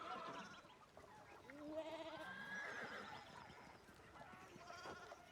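A horse whinnies in the video game Pentiment, a faint, wavering neigh that rises and falls over a few seconds in a quiet rural scene.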